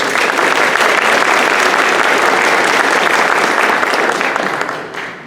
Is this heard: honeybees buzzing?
no